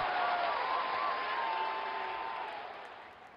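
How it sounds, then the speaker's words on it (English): Cricket stadium crowd roaring after a six at a Pakistan vs India T20 World Cup match, a broad sustained cheer with a whistle rising over it, slowly fading. "Crowd going mad here."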